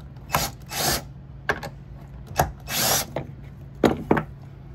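Power-driver bursts remove the screws holding down a control panel: several short whirring runs with ratcheting clicks and pauses between them, loud and close.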